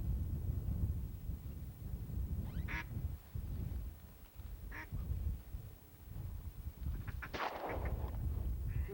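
During a goose and duck hunt in Acadiana, a few sharp shotgun reports ring out at a distance over steady outdoor background noise, with a louder shot near the end.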